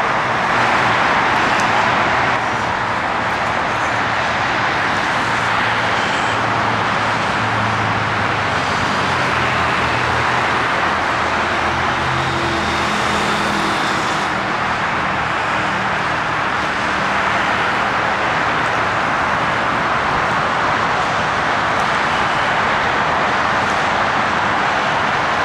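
Dense traffic on the 635 LBJ freeway in Dallas passes close by as a loud, continuous roar of cars and trucks, with passing vehicles swelling and fading within the steady wash of road noise.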